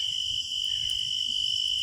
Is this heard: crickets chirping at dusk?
yes